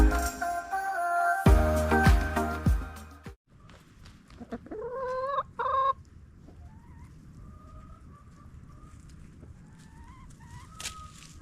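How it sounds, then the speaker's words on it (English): Chickens cluck and squawk at close range, with a loud burst of flapping or scuffling near the start and scattered calls over a steady outdoor background. "And these chickens are happy."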